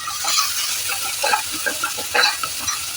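Onions sautéing in a pan for a goat liver pepper gravy, with a steady close sizzle and the scrape and clatter of stirring throughout.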